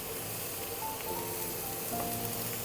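Onions sauté in a pan with salt, giving a steady close sizzle and crackle that runs throughout with small stirring clicks and no talk.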